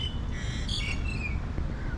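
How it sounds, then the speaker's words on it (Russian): Small birds chirp and twitter faintly in a Bangkok park, with thin high calls scattered over a steady low ambient rumble of the surroundings. "птички им поют"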